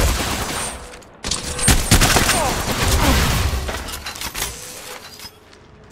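Gunfire in the battle royale shooter Apex Legends, loud bursts of shots and rattling fire after a brief pause, fading toward a quieter tail, with some talk mixed in.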